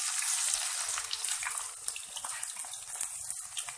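Chopped onions, two finely cut, hit hot oil in a pan for baingan bhurta, giving a steady loud hiss and crackle of frying that runs throughout with no talking.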